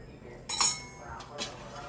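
A lid clinks down onto a pot of chickpea leaf curry once the gas is switched off: one bright metallic clink, then a fainter knock a moment later, close by in a quiet kitchen.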